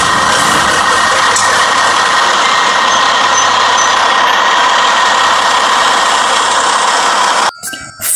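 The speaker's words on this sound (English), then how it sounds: "This is a long bed truck." A long bed truck engine runs loud and steady with a deep, even drone that holds throughout, then drops away sharply near the end.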